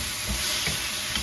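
A splash of starchy pasta water hits a hot chicken stir fry pan with spinach, giving a loud, close, continuous sizzle and hiss with faint stirring bumps.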